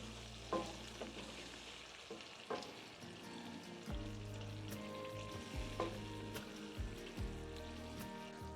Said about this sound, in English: we're going to let this simmer down